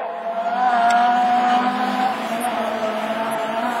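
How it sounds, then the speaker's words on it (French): An Audi A3 and a Peugeot 306 Maxi rallycross car race side by side, engines droning at high revs with a steady, strained tone that rises and falls slightly, close and loud. "Le duel entre l'Audi A3 et la 306, Maxi, celle d'Yvan Bedouet et l'Audi de Jimmy Terperon"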